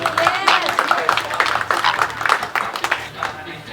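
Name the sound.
audience applause at a flamingo show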